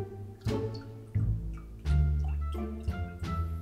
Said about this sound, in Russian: А вот четвертая капля.